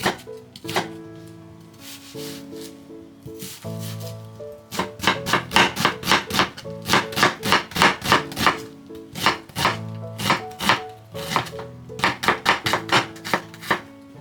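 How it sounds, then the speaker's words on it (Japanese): A knife taps rapidly on a cutting board, mincing half an onion in quick rhythmic bursts with short pauses between runs of chopping. "次は玉ねぎ。 半分使っていきます。 みじん切りにしていきましょう。"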